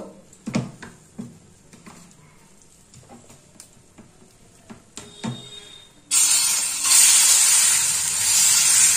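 Batter spread onto a very hot frying pan bursts into a loud, steady hiss partway through, after a run of sharp knocks and scraping clatter from the pan.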